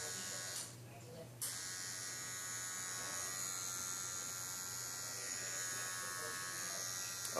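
A Solong rotary pen tattoo machine, model EM128-1 or EM108-1, running with a steady faint electric buzz and whine throughout, briefly interrupted by a short scrape early on.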